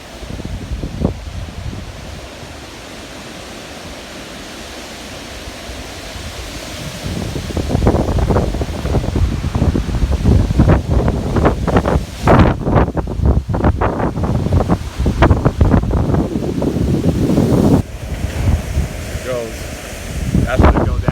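Wind gusts of 60-70 mph from Tropical Storm Isaias on Long Island, roaring and buffeting the microphone in heavy, rushing surges after a calmer opening, loud and close, with rustling trees.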